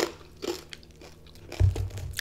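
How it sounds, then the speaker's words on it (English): Crunchy lemon pepper chicken wings from Buffalo Wild Wings being bitten and chewed close to the mic, soft mouth sounds giving way to a louder, heavy crunch near the end, with no talking. "This lemon pepper chicken is crunchy. I do like the crunch."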